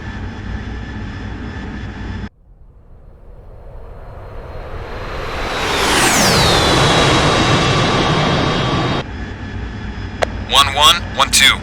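Jet aircraft engine in the DCS World flight simulator game spooling up into a loud, steady roar with a rising whine that sweeps upward then settles, sustained for several seconds before cutting to cockpit noise and a brief burst of voice chatter.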